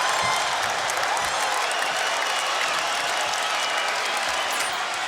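Fight crowd in a Las Vegas arena cheering and applauding after an opening round between Gaethje and Johnson, a steady dense roar of claps and shouts filling the whole stretch.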